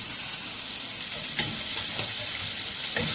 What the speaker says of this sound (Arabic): نظبط بقى كده الخضار بتاعنا تشويحه كويسه.